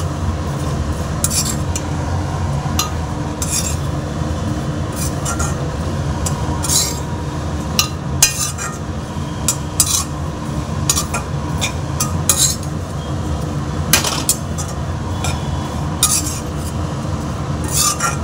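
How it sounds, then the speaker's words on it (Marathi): A utensil scrapes and clinks against a pan as grated coconut roasts on low gas for karanji stuffing, with a steady sizzling background and irregular sharp metallic taps throughout. "आणि आता इकडं खोबरं बघा भाजत आले बऱ्यापैकी"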